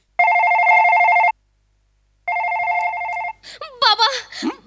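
An electronic telephone ring sounds twice, each ring a buzzing tone about a second long, followed by a voice speaking after the second ring.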